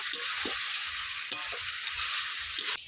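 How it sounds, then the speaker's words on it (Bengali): Chicken pieces sautéed and stirred in a pan for a Bengali red chicken curry, a steady close sizzle broken by repeated soft scrapes of the spoon against the pan. "আরও কিছুক্ষণ খুব ভালো করে নেড়ে চেড়ে কষিয়ে নেব"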